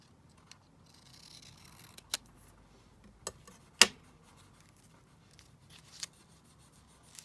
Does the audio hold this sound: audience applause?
no